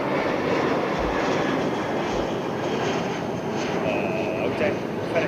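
FedEx MD-11 cargo jet passing overhead near London Heathrow, a broad steady engine roar that fills the whole stretch, with people talking over it.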